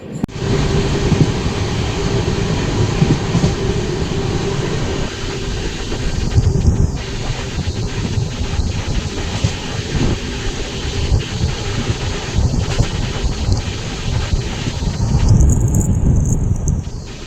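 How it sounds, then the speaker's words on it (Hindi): Passenger train 02526 from Prayagraj to Hajipur runs on the rails near Mughal Sarai station, heard from inside as a continuous loud rumble and hiss with faint rhythmic clicks and occasional brief squeals. "फाइनली अब हमारी ट्रेन जो है कि पंडित दीनदयाल उपाध्याय मुगल सराय के रेलवे स्टेशन पे आ चुकी है"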